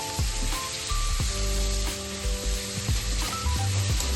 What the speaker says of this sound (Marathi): थोडा गरम मसाला टाकला आहे, मिक्स करून घ्यायचं आहे।